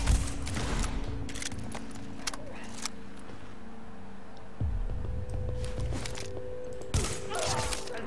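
Sniper and firearm shots crack out in The Division video game, several sharp reports scattered irregularly over a vehicle-like engine drone and shuffling mechanical noise, with a voice talking now and then.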